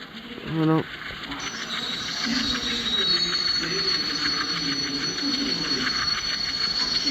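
A train rolls steadily along the rails with a rhythmic clatter of wheels and a high metallic squeal, after a brief horn-like tone at the start.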